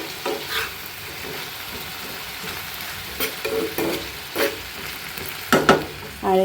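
Onions and green chilies fry together in hot oil, giving a steady close sizzle broken by a few sharper scrapes and clatters of stirring.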